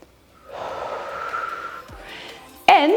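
A person breathes heavily at the end of a full-body workout: a long, hissing exhale, a pause, then a sharp, loud gasping breath close to the microphone.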